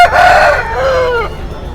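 A rooster crows once, loud and close, a drawn-out call that rises then trails off over a couple of seconds, at a Tamil village poultry market.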